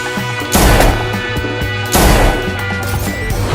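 Gunfire and crashing impacts in a LEGO Iron Man animated action scene, with loud heavy bursts over a busy score, two especially strong blasts standing out.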